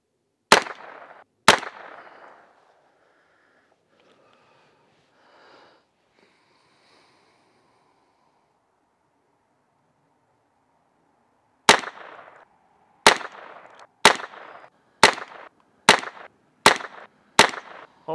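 Gunshots from a Heritage Rough Rider revolver fitted with a red dot, fired at hanging steel targets about 20 yards away outdoors: two sharp cracks, a long quiet gap, then a rapid string of about seven loud reports with short ringing tails.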